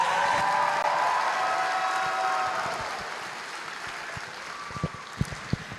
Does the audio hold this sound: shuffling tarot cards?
no